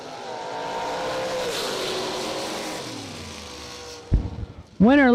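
Drag racing cars launch down the strip with a loud, sustained engine roar whose pitch sweeps as they accelerate away. A sharp burst follows near the end, and an announcer's voice comes over the noise.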